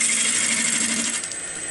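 A turning gouge cuts wood on a lathe as the tool is rolled into the cut for an eccentric bat, giving a loud, steady, close-up whining hiss that carries through the whole short moment without any voice.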